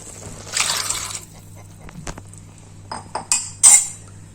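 Boiled black peas tipped into a cooking pot, a short burst of soft sliding and splashing followed by a few light metallic clinks of a spoon against the pot, close and fairly quiet.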